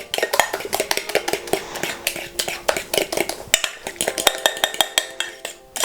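Buttermilk whisked into banana donut batter in a bowl, a rapid rhythmic run of metallic clinks and scrapes of a whisk against the bowl, close and loud, with no talking.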